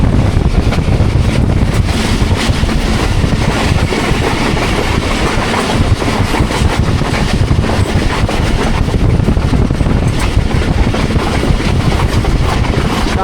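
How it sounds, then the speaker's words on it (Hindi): The 46 Down Pakistan Express, running from Rawalpindi to Wazirabad on a rainy early morning, passing through a station without stopping, a loud continuous rumble and clatter of rolling wheels with wind buffeting the microphone from on board. "6:45 पे कल्याम अमान रेलवे स्टेशन को स्किप कर रही है 46 डाउन पाकिस्तान एक्सप्रेस"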